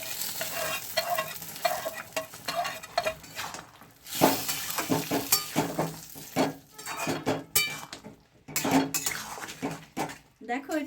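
Loud stirring and scraping in a frying pan as fried neem leaves are added, with sizzling, spoon clatter and scattered bursts of noise throughout.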